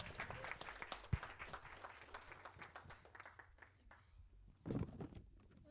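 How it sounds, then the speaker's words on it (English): An audience at a women's leadership awards ceremony claps in a scattered, moderate round of applause for an honoree, with voices murmuring underneath and a short louder burst of clapping near the end. "And then let's give another round of applause for Anika Singh."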